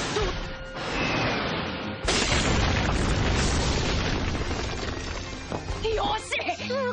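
A Scorpius weapon, built from land-type crystal tissue and operated by a giant mech in an anime, fires with a loud, sustained blast and crashing impacts for several seconds, with another burst near the end and voices over it.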